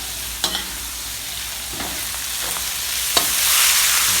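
Mussels being stir-fried in a pan for Thai drunken noodles (pad kee mao), a steady sizzle broken by a few sharp utensil clatters, the frying hiss growing brighter toward the end.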